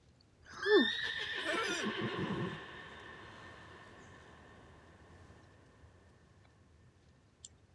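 A horse neighs loudly in a video game as its rider is thrown off, a sharp whinny with a brief clatter, then a sustained ambient tone fading under quiet background sound.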